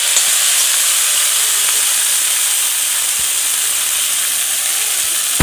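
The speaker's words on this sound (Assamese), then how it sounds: "অলপ ৰঙচুৱা হোৱাত তাত মই কাটি লোৱা ঢেকীয়াখিনি দি দিছো।" Chopped dhekia (fiddlehead fern) hits hot oil with browned onions, giving a loud, steady, close-up sizzling hiss that lasts the whole time, with a few faint low knocks beneath it.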